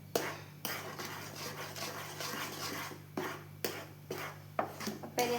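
Pineapple jam with sugar is stirred in a pan in a home kitchen, with a utensil scraping and knocking against the metal in irregular strokes and soft clinks over a low steady hum.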